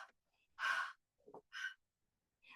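A voice imitates heavy, tired breathing after running, a few breathy gasps and huffs with short pauses between them, close and fairly quiet.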